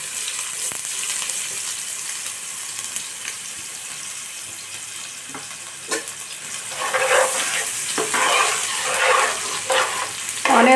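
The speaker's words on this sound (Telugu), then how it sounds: "తర్వాత ఆనియన్స్ అనేవి వేసేసుకుందాము." Biryani masala and onions frying in a pan for kushka, a low steady sizzle with occasional scraping and stirring that grows louder and busier toward the end, no talk.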